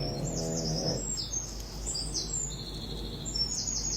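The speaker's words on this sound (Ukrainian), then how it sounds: "наді мною мирне небо співають птахи." Birds chirp and sing outdoors under a quiet sky in Ukraine's Sumy region: bright, repeated high tweets and trills over a low background hum, with a brief low voiced sound at the start.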